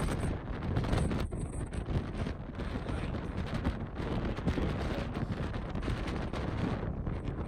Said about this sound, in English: if I actually turned on the sound, you would hear how windy it was